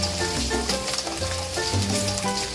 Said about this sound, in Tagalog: Pag mainit na, ilagay yung bawang.